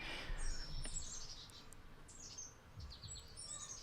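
Birds chirp and tweet in Mint Hill with repeated high, bright calls scattered over a constant low hum of passing street traffic, fairly faint overall.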